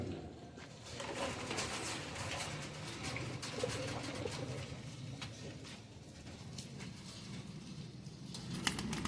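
A female desi pigeon coos softly amid a steady background hum, with faint scattered clicks and rustles and no speech.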